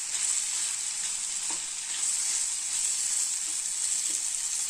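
Roasted peanuts sauté in hot oil in a pan for a ridge gourd gravy, giving a steady bright sizzle with occasional soft scrapes and stirring knocks and no talking.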